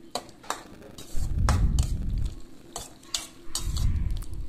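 Egg and chicken stir-fried together in a pan for nasi goreng, with clattering spatula strokes and scraping bursts over a low sizzle, near and alone, with no voices.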